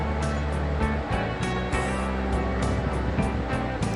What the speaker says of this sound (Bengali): লঙ্কাটাকে ভালোভাবে আমরা ভেজে নিচ্ছি নেওয়ার পরে এরপরে দুটো তেজপাতা দিচ্ছি